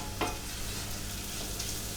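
Vegetables sizzle softly in a hot pan while a utensil stirs them, a quiet steady frying hiss with a brief scrape near the start.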